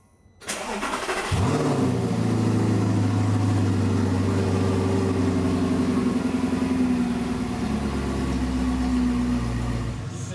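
An Audi R8 V8 engine cranks, catches and roars to life, then settles into a loud, steady, rumbling idle with a slight drop in pitch near the end.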